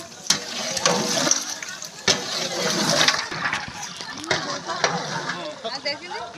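Boiled meat and spices are stirred in a large cooking pot, with loud wet sloshing and scraping over a steady sizzle; a voice speaks in the background during the stirring.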